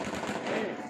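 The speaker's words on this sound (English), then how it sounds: "gunfire was common in many of the videos that have emerged" Gunfire in a street during Myanmar's anti-coup protests, a brief, fairly faint, rough burst of rapid shots blurred into background noise.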